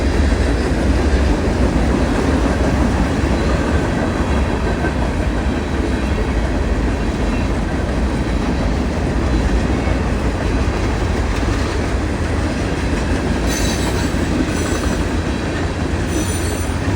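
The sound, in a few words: freight train cars passing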